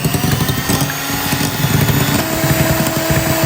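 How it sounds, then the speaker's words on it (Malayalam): Electric hand beater whipping eggs for a plum cake, a close, loud, steady high-pitched motor whir with rattling against the bowl, running continuously and cutting off abruptly at the end. "ഇനി നമുക്ക് എഗ്ഗ് ബീറ്റ് ചെയ്തെടുക്കാം."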